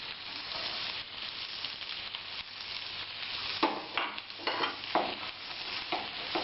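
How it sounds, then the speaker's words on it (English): Chopped onions and garlic frying in oil in a pan, a continuous close sizzle with a few louder scraping stirs near the end. "fry it for some time till the onion is brown in color"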